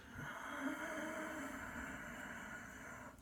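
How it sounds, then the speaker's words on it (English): A slow, raspy Ujjayi yoga breath hisses through a narrowed throat, one long steady airy stream with a soft whispery texture, close and quiet. "Ujjayi breath sounds like this."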